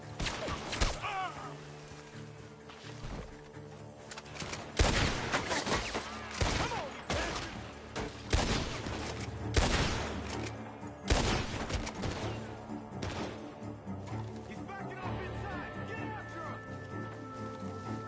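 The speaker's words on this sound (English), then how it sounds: "The gunshots are coming from that" Gunfire in the video game Red Dead Redemption 2, a rapid series of loud cracking shots spread across the scene, some near and some farther off, mixed with game noise and brief character voices.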